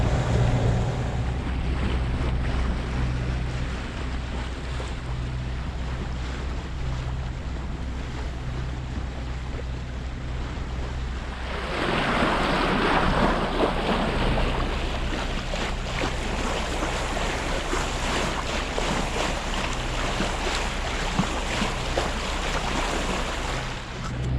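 A boat motors north past an island at sea, its engine a steady low drone beneath broadband wind and wave wash that grows louder and rougher about halfway through, with no talking.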